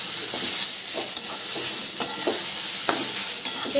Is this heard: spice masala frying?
yes